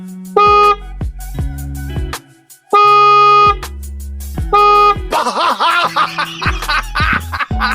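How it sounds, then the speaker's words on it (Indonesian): A stock Kawasaki Versys motorcycle horn sounds loud blasts in short bursts, three distinct honks with pauses between, followed by a jumble of overlapping tones and noise. "Inilah dia suara dari klakson sebelumnya."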